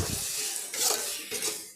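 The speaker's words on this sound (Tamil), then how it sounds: "இந்த மசாலா எல்லாம் காலிஃப்ளவரில் படுற மாதிரி கலந்து கொடுத்துக்கலாம்" Cauliflower being tossed into masala in a pan off the heat, a close scraping and clinking of spoon against metal with a faint sizzle underneath, steady and continuous with no voices.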